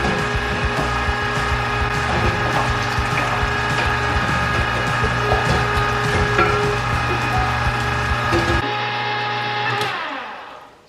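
A meat grinder grinds ground pork for sausage with a loud, steady whirring and rattling drone, then the motor shuts off and winds down to silence near the end.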